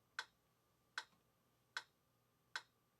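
A metronome clicks at 76 BPM, giving four sharp, evenly spaced ticks. They sound faint and dry over a quiet background.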